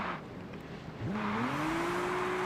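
A Toyota Supra MK4 revs up while drifting in sixth gear, the engine pitch climbing steadily and holding high after a short lull, loud and close.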